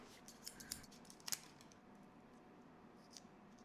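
A few soft snips and clicks of scissors cutting watercolor paint packaging, faint and sporadic, over a quiet background hiss.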